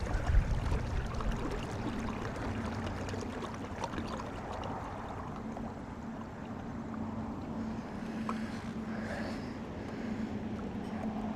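A small electric trolling motor on a fishing kayak runs at low speed, giving a steady low hum under wind and water noise on open water, constant throughout.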